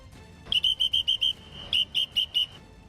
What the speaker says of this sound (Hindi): कुछ पुलिस वाले पेट्रोलिंग करते दिखाई दिए और सीटी बजाकर लोगों को वहां से जाने के लिए इशारों में कहते